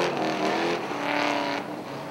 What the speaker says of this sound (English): As he takes his victory lap around the Big 8.